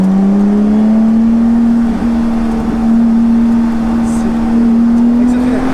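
Lotus Exige V6 S with its 3.5-litre V6 pulling from low revs on the road, a steady loud engine drone with a rising pitch, heard from inside the car with a voice talking over it.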